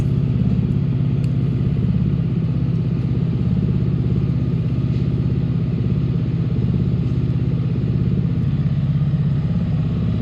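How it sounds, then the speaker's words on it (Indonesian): Yamaha R15 motorcycle with a narrowed exhaust outlet, idling with a steady, soft, muffled low burble, close and constant throughout, without talking. "Untuk knalpotnya suaranya jadi kayak gini, lebih lebih adem sih, nggak yang menggelegar keluar karena lubangnya memang saya kecilkan"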